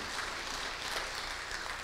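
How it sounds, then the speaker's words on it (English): Congregation in a church giving a round of applause, a dense, steady burst of clapping that fills the brief moment without talk. "give her a round of applause"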